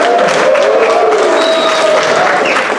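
Soldiers in a crowd at a USO show at Pohakuloa Training Area applaud and cheer loudly and steadily for the whole stretch.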